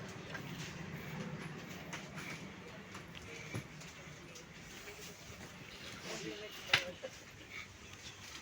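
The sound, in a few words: train from Lucknow running on rails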